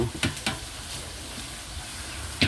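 Jackfruit pieces frying in hot oil, giving a steady soft sizzle broken by a few sharp crackling pops near the start and again at the end.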